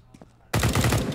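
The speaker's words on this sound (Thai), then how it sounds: "ยิงทะลุไปโดนไมโรแล้วนะ" Sustained automatic gunfire in the CS:GO video game during a professional LAN match bursts in loudly after a quiet lead-in, a dense rapid stream of shots filling the rest of the moment.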